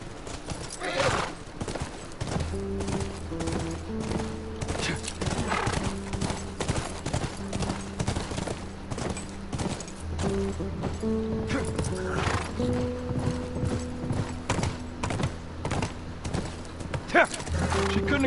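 Horse hooves clip-clop at a steady gallop with whinnying neighs in The Last of Us, set against a game soundtrack of low sustained music and occasional voices, loud and continuous throughout.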